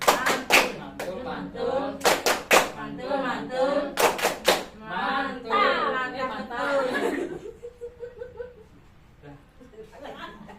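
Mothers at a parenting session do a rhythmic group clap in sharp, loud bursts of several quick strikes, separated by voices and scattered chuckling and laughter.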